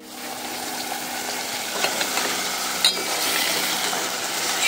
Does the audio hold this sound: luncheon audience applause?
no